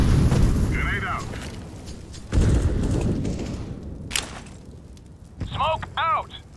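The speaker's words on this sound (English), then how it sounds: "Grenade out." A grenade goes off in a Counter-Strike match, a single heavy boom partway through, set among softer game thuds, short metallic chirps and a busy background.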